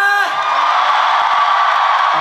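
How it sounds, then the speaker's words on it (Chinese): Concert audience at a live show screams and cheers loudly, a dense, sustained roar of whoops and yells filling the whole stretch, briefly following an amplified voice at the start. "再一个尖叫声"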